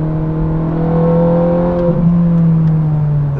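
A Ferrari engine drops a gear with a blip of revs, then pulls into a corner with a rising, steady harmonic drone, close and loud with no talk.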